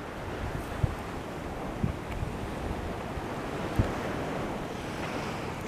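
Continuous rushing water noise of the Arkansas River, broad and steady, with occasional soft splashes and a touch of wind, no voices.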